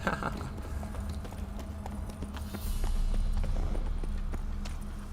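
Horse hooves clip-clop steadily in a video game, a brisk run of close hoofbeats over a rumbling game soundscape.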